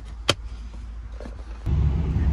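A car being driven, heard from inside the cabin: a steady low rumble with a brief sharp tap early on, and the engine and road noise grow fuller and louder for the last second. No one speaks.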